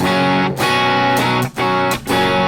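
An electric guitar plays crunchy, moderately overdriven chords through a small mini pedal, each strum ringing loud and sustained before short gaps between chords, with individual notes still distinct.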